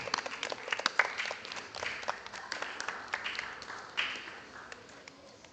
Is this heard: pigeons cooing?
no